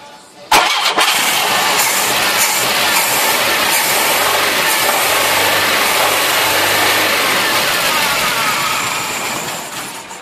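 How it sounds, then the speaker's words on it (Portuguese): A car fitted with a Quantum carburetor and automatic transmission cranks and fires, then runs loudly and steadily at close range with a raw, unsettled idle, the engine note filling the whole clip. "Olha aí o funcionamento do carro."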